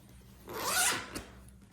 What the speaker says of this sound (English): nice zipper there